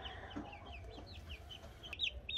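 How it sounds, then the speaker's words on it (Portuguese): Chickens in a pen behind a screen give soft, scattered clucks and chirpy calls over steady low background noise, with a sharper call near the end. "E as galinhas lá, ó, tudo apreensiva, tudo olhando pela tela aí"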